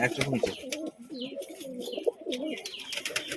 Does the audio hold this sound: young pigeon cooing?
yes